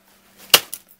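A grub screw being cut to length with bolt cutters, one sharp close snap followed by a smaller metallic click, brief and alone in a quiet room.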